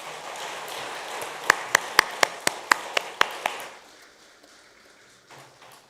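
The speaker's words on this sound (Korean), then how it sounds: "여러분 박수 한번 해주시기 바랍니다." A church congregation claps, soft distant applause joined by a run of about eight sharp, evenly spaced claps close by, then fading to near silence.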